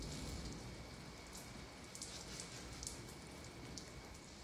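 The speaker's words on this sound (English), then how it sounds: "we are getting thunder and lightning and rain and all kinds of good stuff" Steady rain falling during a thunderstorm, a dense hiss with scattered drips and patters on a surface nearby, continuous and moderately faint with no voices.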